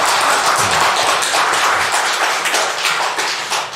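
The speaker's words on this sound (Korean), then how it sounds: "박수 한번 하겠습니다." A church congregation claps together during a Sunday service, producing dense, loud, continuous applause with many overlapping hand claps that fades slightly toward the end.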